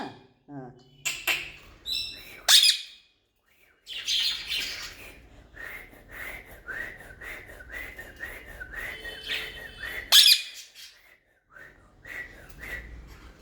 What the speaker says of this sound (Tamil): சித்துமா, உனக்கு விசில் அடிக்க தெரியுமாயா?